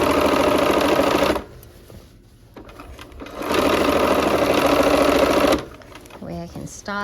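A sewing machine stitches quilt seams in two loud, steady bursts of rapid rattling separated by a brief pause, and a voice talks over the end.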